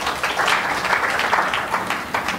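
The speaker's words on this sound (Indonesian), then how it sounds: "Berikan tepuk tangan." Church congregation applauding at a service, a steady dense wash of clapping with a few voices mixed in throughout, fairly loud and close.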